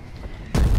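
A 120mm artillery gun fires in the online war game Foxhole, a sudden heavy boom that breaks in after half a second of quiet ambience and rumbles to the end.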